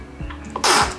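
A single sharp sneeze, loud and close, preceded by a couple of small sniffs in a quiet room.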